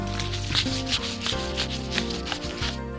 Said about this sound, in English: Once you've pulled your thin plastic over the cast, you sand it with 60 grit sandpaper.